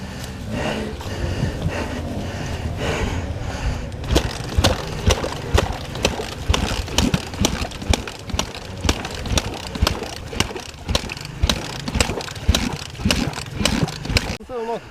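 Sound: hard enduro motorcycle engine starting and idling

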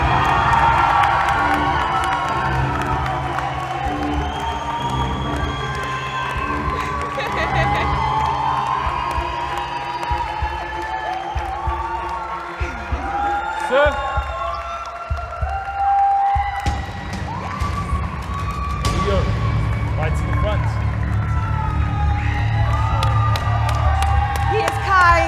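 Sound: audience cheering for new Mr. World South Africa

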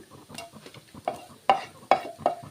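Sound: grated coconut being pushed to the side of a hot pan

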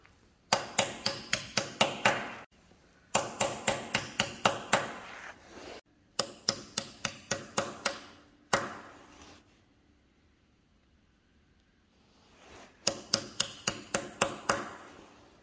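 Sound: small chisel hammered to flatten bolt fold-over locks

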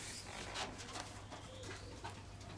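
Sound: pigeons cooing

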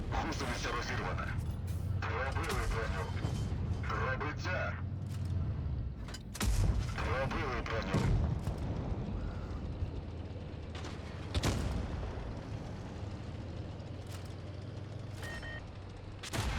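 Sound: tank gunfire in the video game World of Tanks Blitz

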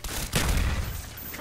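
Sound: grenade explosion in a video game

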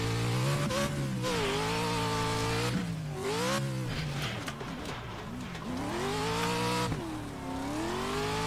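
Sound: car engine in a racing video game

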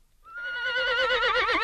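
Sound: horse neighing in radio fairy tale

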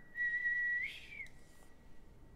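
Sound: person whistling to calm a shark

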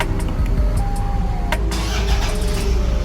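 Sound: Toyota Fortuner engine starting via push-start button

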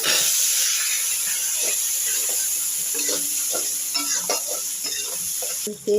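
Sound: onions and curry leaves sautéing in oil with spices

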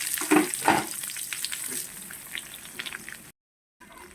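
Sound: small onions and mustard seeds frying in hot oil

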